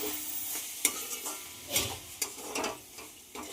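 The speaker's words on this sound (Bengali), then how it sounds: "ডিমটাও মশলার সঙ্গে হালকা একটু কষিয়ে নেব।" Grated egg is sautéed with spices in a pan, a soft sizzle broken by a few sharp scraping stirs and clinks of a spatula, close and moderately quiet with no talking.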